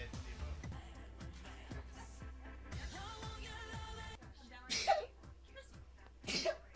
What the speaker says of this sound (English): He's even sneezing